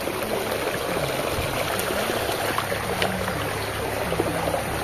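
Steady broadband rush of a slippery, moss-covered river flowing over rocks, continuous and close throughout with faint trickles on top and no talk.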